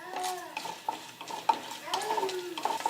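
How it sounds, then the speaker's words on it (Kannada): Chana dal and urad dal fry in hot oil for an avalakki tempering. A crackling sizzle plays under repeated clinks and scrapes of a spoon stirring against the pan, close and intermittent. "ಇವೊಂದು ಸ್ವಲ್ಪ ಕೆಂಪಾಗಂಗೆ ಫ್ರೈ ಮಾಡ್ಕೋಬೇಕ್ರಿ ಕಡಲೆಬೇಳೆ ಉದ್ದಿನಬೇಳೆ"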